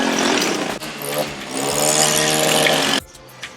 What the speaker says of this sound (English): And we got the tree chipper.